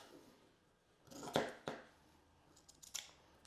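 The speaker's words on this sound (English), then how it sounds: "so that I don't have to get the pattern out again so that I can cut it" Scissors cutting fabric for sewing, a few close, quiet snips and crisp blade closures in a short, uneven sequence against near silence.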